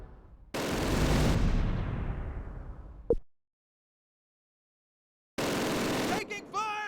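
Gunfire in the WWII strategy game Close Combat Wacht am Rhein: a loud burst of shots and rumbling blasts that fades out, a sharp crack, silence, then another loud burst with voices over it.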